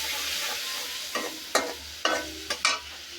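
Spice masala fries in a pan for a small mixed fish chorchori with stalks and potato, a soft steady sizzle broken by about five distinct scraping stirs, close and with no talking.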